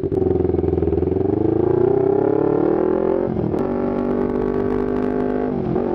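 A Yamaha R25 motorcycle rides on the road, its engine loud and close, pitch climbing steadily through the gears, then a brief dip and shift before settling into a steady cruising drone.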